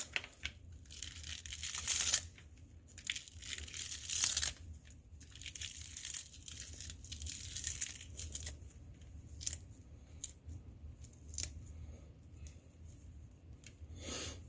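Fresh, already-rinsed cilantro torn apart by hand, with soft crinkling, crunching rips that come in short bursts around a few stronger tears, fairly close and quiet, with no talking.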